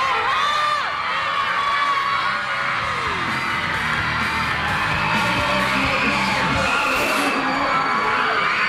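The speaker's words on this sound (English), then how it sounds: "Wherever the idols went, hundreds of screaming fans turned up to meet them." Hundreds of fans scream and cheer at a Singapore Idol mall roadshow, a dense, loud crowd roar of shrieks and whoops that carries on throughout.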